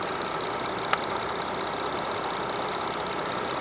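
An Audi A6 Allroad 55 TDI diesel engine idles steadily with an even, unchanging drone, plus one brief click partway through.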